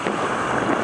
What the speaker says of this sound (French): Il y a un peu de vent, le ciel est couvert.